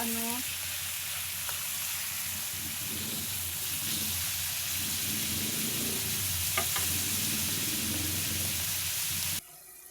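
Chicken fries in a pan with a steady, loud sizzle while a utensil occasionally scrapes and stirs, the crackling continuing throughout.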